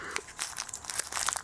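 Crinkling of paper-like wrapping, irregular crackles and rustles close up, steady and busy throughout with no voices.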